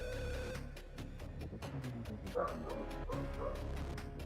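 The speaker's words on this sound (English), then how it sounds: "And my dog is freaking out." A pet dog barks and yips in rapid, repeated bursts with whimpers in between, agitated and fairly close, mixed with rhythmic video-game music.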